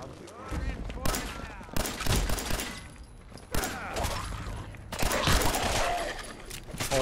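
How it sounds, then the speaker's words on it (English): Gunfire in Fallout 4 as an enemy's leg is shot off: loud bursts of shots arrive in several separate volleys over about seven seconds, with game voices and talk mixed in. "Oh, I shot your leg off."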